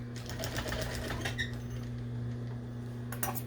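A sewing machine hums and whirs steadily up close as it stitches neck ribbon onto an apron neckline, with faint clicks near the end and no talk.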